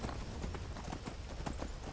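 Hooves clip-clop steadily as a horse is ridden in Skyrim, faint but rhythmic over a low background.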